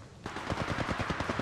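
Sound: gunfire in the video game Apex Legends Mobile

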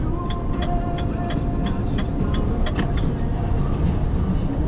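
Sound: vehicle driving to the base

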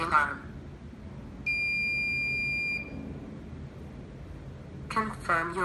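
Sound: alarm test on a Nextion Mega eParrot device

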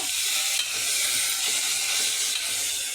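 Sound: meat frying in AMC cookware pot

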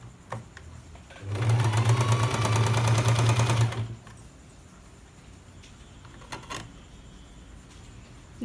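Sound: sewing machine stitching Patiala pant side seams

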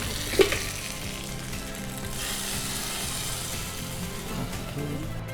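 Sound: tempering sizzle after adding neem leaves to hot oil

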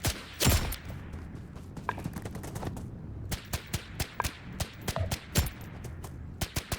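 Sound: gunfire from the video game BRM5

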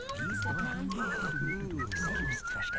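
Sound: whistling in a video game

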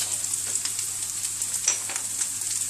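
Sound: ground beef frying in a pan

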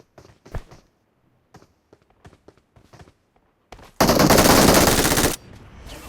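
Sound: gunfire in PUBG Mobile video game

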